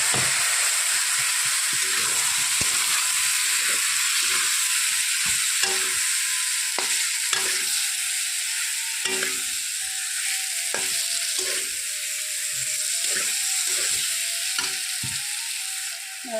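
Spices frying in hot oil in a home kitchen pan, a continuous loud sizzle with repeated scraping knocks of a stirring spoon at an irregular rhythm, no talking.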